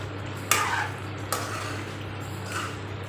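Chicken with cumin, coriander and red chilli powder is stirred in a pan for chicken bhindi gosht, with a few distinct scraping strokes over a low, steady frying hum.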